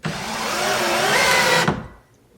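Litheli U20 cordless drill driving a GRK structural screw into wood, a loud steady whirring strain that cuts out abruptly and drops into near silence.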